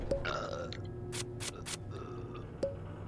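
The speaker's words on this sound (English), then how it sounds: "Don't burp!" A single burp from a person with sodas nearby, a short low gurgle near the microphone, followed by a few faint clicks and quiet drips against a hushed background.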